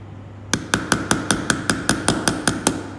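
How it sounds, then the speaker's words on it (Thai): A hammer taps gently at the pin of a Casio watch strap, about a dozen light, evenly spaced metallic knocks at a steady rhythm, close and alone. "ค่อยๆตอกเบา ๆ ค่อยๆตอกไปเรื่อยๆ นะครับ"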